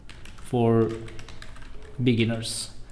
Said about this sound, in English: I'm going to type out something like online tutor, and then I would love to type out for beginners.